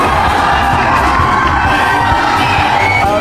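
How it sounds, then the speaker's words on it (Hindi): A large audience of students at a motivational talk erupts in loud cheering and shouting, a dense, sustained crowd roar that fills the whole moment. "एक बार जोरदार ताली बजा दीजिए"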